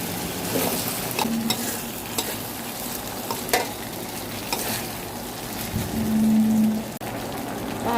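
Vegetarian glass noodles with vegetables and fried tofu are stir-fried in a pan, a steady close sizzle with repeated scraping and tossing clatters of the utensil against the metal, plus a brief louder hiss.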